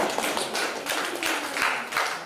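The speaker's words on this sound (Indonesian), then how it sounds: "Tepuk tangan untuk ChatGPT" Audience clapping during a lecture on religion, philosophy and AI, a scattered patter of hands from a modest crowd, fairly quiet and brief.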